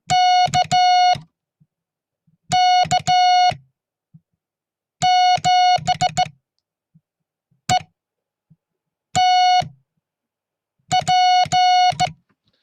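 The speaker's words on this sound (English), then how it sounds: "can everybody hear my straight key?" Clear electronic tone beeps keyed in short and long bursts, grouped with pauses between, Morse code sent by hand on a straight key; loud and isolated.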